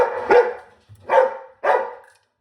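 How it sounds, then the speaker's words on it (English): A puppy barks loudly three times at close range, each bark sharp and separated by a short pause, with no voices over it. "his bark is very, very loud"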